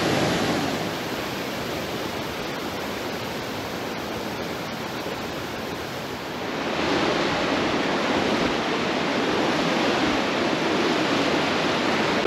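River water flowing steadily at Tahquamenon Falls in Michigan, where the channel splits around a small island; a continuous broadband rush that grows somewhat louder and fuller about halfway through, with no talking.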